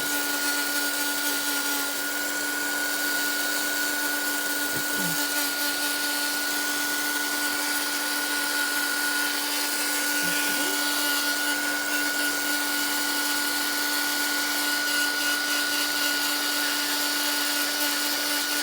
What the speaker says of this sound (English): Just go around there with the dryer to just dry some of that paint.